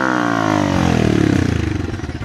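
A motorcycle engine revs up close on a snowy off-road ride in Sonamarg, Kashmir, its exhaust note climbing then settling into a loud, throbbing idle with a pulsing rhythm.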